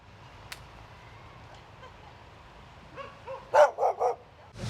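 Dogs at street dog shelters in a city, quiet at first with a faint yelp, then a cluster of several sharp barks near the end, moderately loud over a low background rumble.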